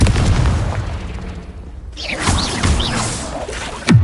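A Confringo blasting spell goes off in Hogwarts Legacy: a loud boom with a whooshing burst, then scattered crackling debris and a sharp pop at the end, with no speech.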